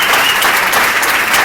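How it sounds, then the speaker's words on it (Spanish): An audience at a talk event in Elche breaks into steady applause, many hands clapping in a dense, even wash of sound that carries through the short moment without voices on top. "¿No se merece echar un aplauso también?"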